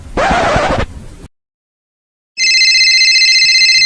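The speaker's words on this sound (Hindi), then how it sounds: "आ रहा फोन" A telephone rings loudly and continuously, a bright, sustained electronic tone that starts abruptly after a brief silence and follows a short burst of noisy sound.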